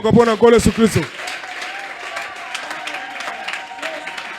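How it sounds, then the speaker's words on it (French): Church congregation at a pastor's ordination service breaking into applause and cheering, a burst of clapping and voices after a loud spoken exclamation, then a steady crowd hum of applause continuing at moderate level. "Acclamez le Seigneur Jésus"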